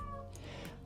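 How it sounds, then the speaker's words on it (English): A house cat meowing in the background of a crochet session, a couple of brief mews over a steady low hum, moderately close and fairly soft. "If you hear meowing in the background"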